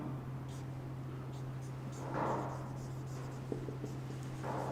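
Marker or chalk scratching across a classroom board during a maths lecture, a few short strokes and squeaks over a steady low electrical hum, fairly faint and close.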